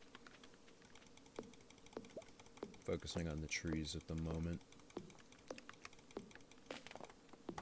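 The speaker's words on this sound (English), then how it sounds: "I'll just randomly tap on keys to get a little more ASMR for you guys" Computer keyboard keys are tapped in a close, quiet ASMR setting, giving a steady patter of soft individual clicks; someone speaks softly partway through over the typing.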